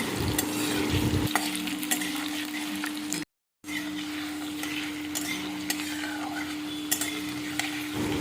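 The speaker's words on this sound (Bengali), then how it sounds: "এরপরে আলুগুলোকে একটু ভালো করে ভেজে নিতে হবে।" Potatoes frying in mustard oil for a paneer curry crackle with a steady, close sizzle, stirred with scraping utensil clinks; a brief dropout interrupts the sound midway.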